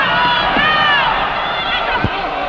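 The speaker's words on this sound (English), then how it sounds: "Crowd yelling instructions to the referee, claiming that Pozendock's holding on to the ropes." A loud wrestling crowd at Hollywood Legion Stadium yells at the referee during a main-event match, with many overlapping shouting voices forming a dense, continuous roar close by.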